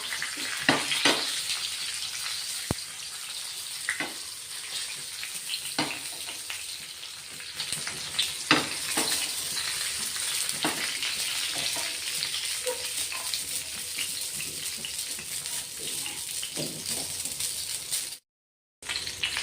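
Stuffed green chillies fry on a tawa as it is turned, making a continuous close sizzle with scattered sharp crackles and clicks and one brief break near the end, without speech.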